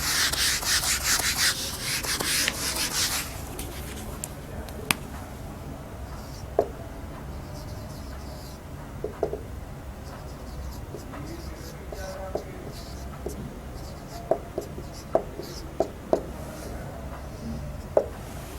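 Chalk or marker scratching and tapping on a board during an Urdu lecture, a broad rubbing hiss at first, then scattered short taps and strokes, fairly faint, with quiet room noise.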